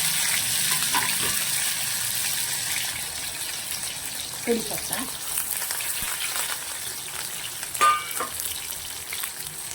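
Diced potato and tomato frying in a pan of crackled cumin seeds for sabudana khichdi, giving a steady close sizzle with occasional stirring clinks, no voices over it.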